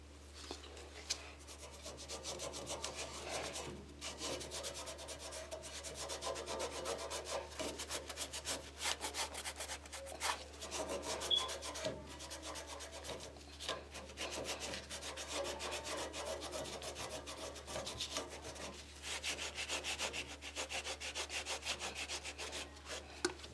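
A cloth scrubbing burn marks off a radiator makes a continuous close rubbing and swishing, with repeated back-and-forth strokes and brief pauses over a low steady hum.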